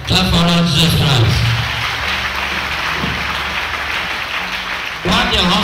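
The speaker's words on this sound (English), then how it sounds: "Clap for Lord Jesus Christ." A church congregation claps and cheers in praise at a healing service, a dense continuous wash of applause, with a preacher's amplified voice speaking over it at the start and end.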